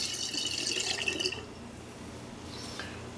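Hydrated yeast is poured into a batch of homemade ginger beer, making a brief, close liquid splash and trickle that fades into quiet, with a faint drip near the end.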